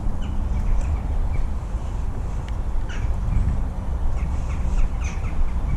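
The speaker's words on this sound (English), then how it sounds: "So there's those ravens and crows, the corvids making all that noise." Crows and ravens caw repeatedly at a distance over a low outdoor rumble, several harsh calls scattered irregularly.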